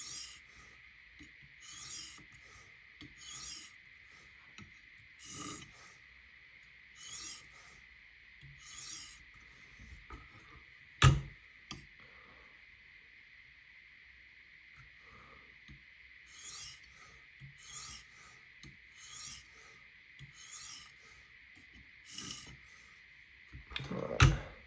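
A Spyderco Magnamax knife blade is drawn across sharpening stones in repeated light strokes, soft rhythmic rasping scrapes in bursts over a faint steady background tone, with one sharp knock midway.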